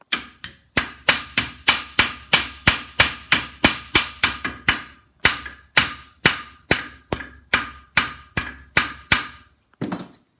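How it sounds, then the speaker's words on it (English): A hammer, a regular one or a ball peen, strikes a pin to drive it out of a phonograph crank handle: about twenty-five sharp metallic blows in a steady, fairly quick rhythm, close and loud, with short pauses between some blows. "If you don't have a ball peen, you can use a regular hammer"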